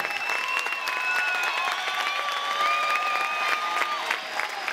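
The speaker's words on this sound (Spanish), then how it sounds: "Un aplauso para él" An audience applauds at a public welcome event in Santa Cruz, a steady dense patter of clapping hands from a crowd, sustained and fairly loud throughout, with faint scattered voices underneath.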